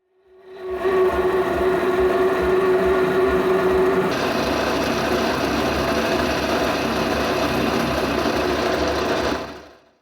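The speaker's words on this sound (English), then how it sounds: "by doing on the lathe, to finish off the hole, I can use a boring bar" A metal lathe runs steadily while a boring bar finishes a hole in a bushing for a wood gasifier, giving a loud, continuous mechanical whir with a steady tone. The pitch shifts partway through. No speech is heard.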